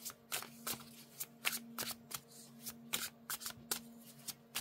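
A deck of tarot cards is shuffled by hand in a steady run of riffling, flicking bursts, close and fairly quiet, with a faint steady hum underneath and no talking.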